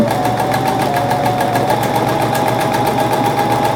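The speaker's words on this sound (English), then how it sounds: "And I'm using my wonderful Bernina 830 that I love" A Bernina 830 sewing machine stitching quilt fabric, running as a loud, steady, rapid mechanical whir with a fast even needle rhythm throughout, no voices.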